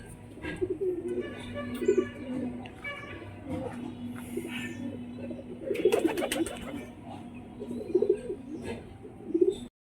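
Pigeons coo repeatedly in a loft, their low rolling calls near and continuous, with some chirps and brief rustling scattered throughout.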